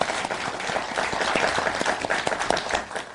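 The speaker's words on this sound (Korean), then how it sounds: "박수 부탁드립니다" An audience at a constitutional reform debate event applauds a district mayor, dense, steady clapping from a crowd, close and continuous throughout.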